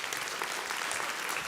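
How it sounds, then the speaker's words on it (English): Audience applause fills a room at a real estate talk, steady and dense clapping throughout with no voices over it. "let's give Tyler a huge round of applause"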